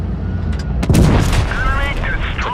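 Heavy tank cannon shots in an online tank battle game, with a loud deep boom near the middle amid game noise and other distant rumbles and blasts, and a voice talking over it.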